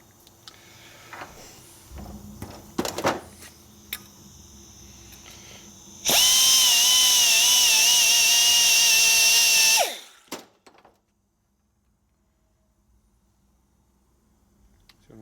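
Steady, loud power-tool grinding on a part of a 1972 Harley-Davidson XL Sportster Ironhead motor, a high whine running about four seconds before cutting off sharply, with softer clatter and handling noises before it and near silence after.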